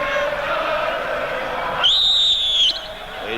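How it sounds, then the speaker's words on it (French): A referee's whistle blows once during a 1988 football match, Michel Platini's testimonial, a shrill held blast of under a second that rises over steady crowd noise and a commentator's voice. "il y a eu un coup de sifflet de Michel Vautreau"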